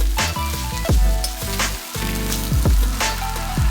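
Cod fillets frying in hot oil in a pan for a spicy Sichuan mala dish, with a loud, constant close-up sizzle and crackle broken by a few scraping or clattering handling sounds, with no talk over it.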